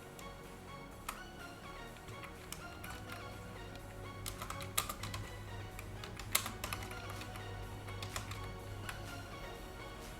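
Typing on a computer keyboard, a quiet scatter of light clicking keystrokes in irregular bursts over soft background hum, no voices.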